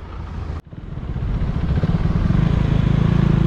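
A motorcycle carrying a rider and a first-time passenger pulls away. A brief cut is followed by the engine rumbling up, loud and close, into a steady, throbbing revving drone.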